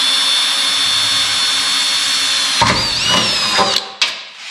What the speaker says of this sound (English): We gotta drill a pilot hole first so that this won't walk on us.